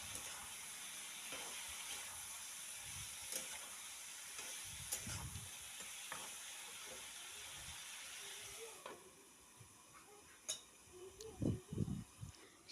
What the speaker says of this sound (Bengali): অল্প নাড়িয়ে নেব।